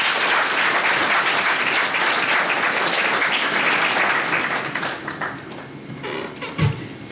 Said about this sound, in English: Give her a clap, please.